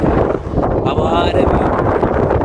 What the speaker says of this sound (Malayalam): അടിപൊളി കാറ്റെന്ന് നല്ല കാറ്റ് സൂപ്പർ തണുപ്പ്